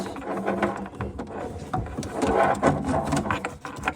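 A small installation tool tightens a kitchen faucet sprayer hose under a granite countertop, giving close, uneven ratcheting clicks and scraping knocks that come in quick bursts.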